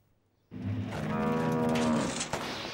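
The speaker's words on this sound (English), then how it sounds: "Are you mooing at me?" A cartoon cow gives a single long, loud moo up close after a brief quiet start, rising and sustained to the end, heard alone without talk.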